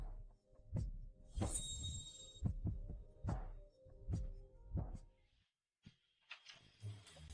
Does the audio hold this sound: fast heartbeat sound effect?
yes